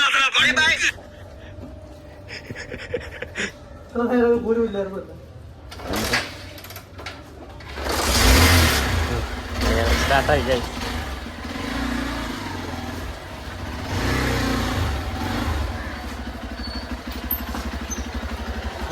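A Hero XPulse 200 motorcycle engine cranks, catches and settles into a revving idle outdoors, loud and close, with a voice talking over it early on.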